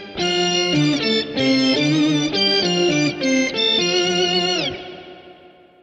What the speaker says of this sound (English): if you wanted to put some distortion through it, you can do that as well